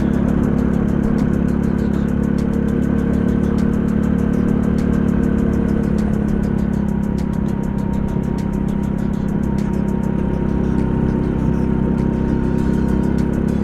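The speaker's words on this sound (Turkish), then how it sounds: "Şimdi bakalım motor bizi nereye götürecek." An RX9 motorcycle engine drones loud and steady while the bike rides through a pine forest on a stabilized dirt road, with wind buffeting over the constant engine hum.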